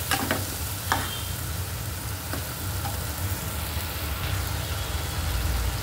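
Masala sizzles steadily in a pan over a lowered gas flame, with a few sharp scraping stirs cutting through the continuous frying hiss.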